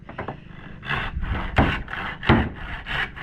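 A hand saw rasps through hard timber in uneven rough strokes, several louder pushes standing out, close and alone with no talk.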